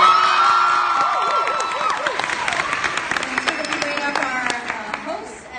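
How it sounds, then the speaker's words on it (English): A lecture-hall audience claps and cheers with whoops, loud crowd noise mixed with shouting voices that gradually thins into scattered claps near the end. "Could you get another round of applause?"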